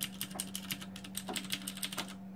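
Keys pressed rapidly on a CODE 61-key WASD mechanical keyboard, a quick, uneven run of crisp clicks close to the microphone, heard alone without talk.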